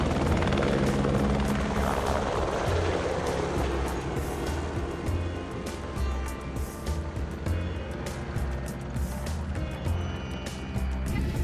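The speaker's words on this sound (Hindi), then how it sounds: "देखिए हेलीकॉप्टर से जब हम जा रहे हैं" A helicopter's steady rotor chop and engine roar fill the scene continuously, loud and close, as if heard from inside the cabin in flight on the way to Kedarnath.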